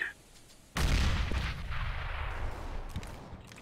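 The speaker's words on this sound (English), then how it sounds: "Throwing a grenade." Grenade explosion in Counter-Strike: Global Offensive, a sudden loud blast after a quiet moment, followed by a rumbling decay and scattered distant gunfire.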